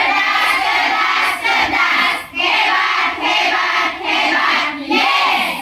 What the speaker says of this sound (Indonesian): tepuk tangan dulu untuk guru hebat